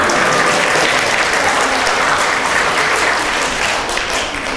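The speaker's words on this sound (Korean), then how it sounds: "자매들 박수 한번 쳐봐요." Dense, loud applause from a church retreat audience of women, steady clapping that fills the whole stretch and fades slightly at the end.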